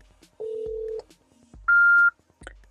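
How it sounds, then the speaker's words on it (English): Dialing tones from a phone placing a call through an aftermarket CarPlay head unit in a car, a few steady electronic beeps of differing pitch, clear and close, with brief pauses between them and no talking. "I'm going to call one of my phone lines and I'm just going to leave a voicemail"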